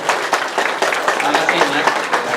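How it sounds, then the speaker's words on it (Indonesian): Crowd applause at an Islamic gathering (tabligh akbar) in Nagoya, a dense, steady wash of many hands clapping together for a couple of seconds, fairly loud and close, with voices mixed in. "Tepuk tangan untuk kebersamaan kita."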